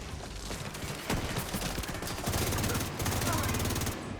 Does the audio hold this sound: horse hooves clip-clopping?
no